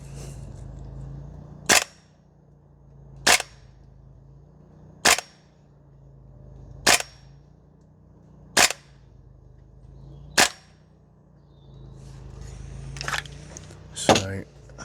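Guns Modify SCAR-L MWS gas blowback airsoft rifle fired on a range: six sharp, evenly spaced cracks about two seconds apart, then a couple more shots amid faint handling noise and a brief voice.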